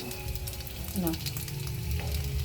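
Ginger hits hot oil in a home kitchen, giving a soft, steady sizzle and faint crackle throughout, with a brief stir or clink partway through and no voices.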